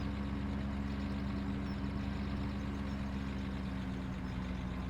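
A steady, low Land Rover engine idle in the video game Farming Simulator 17, with a faint rattle, droning continuously at an even level with no speech.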